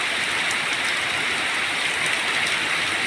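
Heavy rain pours down steadily over a flooded village yard and pond, a dense, even hiss filling the whole stretch without any voices.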